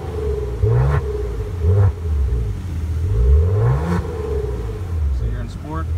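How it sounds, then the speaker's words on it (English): Maserati Ghibli S Q4 engine with dual quad exhaust revving several times as throttle is applied, each rising vroom heard up close, with someone talking over the idle between revs. "Go ahead and give it a little acceleration here,"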